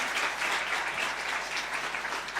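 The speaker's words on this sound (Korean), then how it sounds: "박수로 격려하겠습니다" Korean church congregation clapping to welcome missionary family members at a Sunday worship service, a dense, even burst of many hands applauding steadily and fairly loud throughout, with no speech over it.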